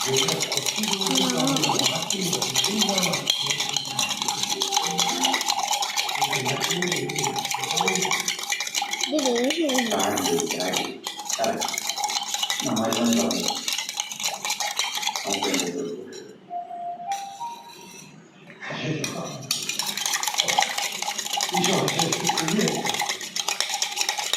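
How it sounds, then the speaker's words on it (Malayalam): Sugar is stirred into a pot to dissolve it, giving continuous close scraping and clinking of a spoon against the pot, with a person talking over it for most of the time and a short quieter gap. "നല്ലോണം മിക്സ് ചെയ്താൽ മധുരമൊക്കെ നല്ല പഞ്ചസാരയൊക്കെ അലിഞ്ഞു പോവും"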